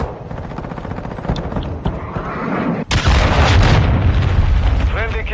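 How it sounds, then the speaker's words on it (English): Cruise missile explosions in a video game: loud, heavy booms with a crackle of gunfire, surging into a sustained roaring blast midway through that stays dense and close to the end. "launched a cruise missile."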